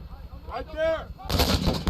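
Gunfire during Marine Corps infantry combat training, shooting uphill: a sharp, loud close report after a brief vocal sound, ringing out with a booming tail.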